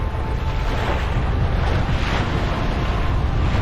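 Strong wind blows across the microphone over rushing waves while a sailboat moves in 12 to 13 knots of wind, a dense, loud, continuous roar with no voices.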